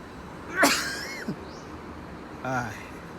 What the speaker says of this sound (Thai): เสียงจามนิดหน่อยนะครับ